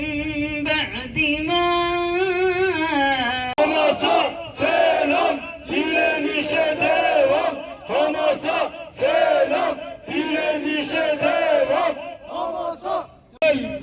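A large crowd at a protest in Sakarya, Turkey, against Israeli attacks on Gaza chants slogans in loud rhythmic bursts, many voices shouting together with brief pauses between phrases, close and continuous.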